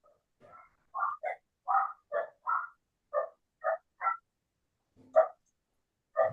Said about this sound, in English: I love barking in the background.